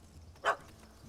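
A single short dog bark from a puppy in The Witcher 3: Wild Hunt, heard faint and a little distant over quiet game ambience.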